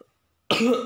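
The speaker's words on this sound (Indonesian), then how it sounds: "Batuk dulu ya, bentar." A single close, harsh cough bursts out after a moment of silence.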